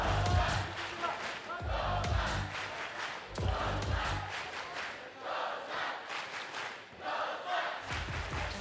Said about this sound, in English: And the Lausanne chants are getting louder.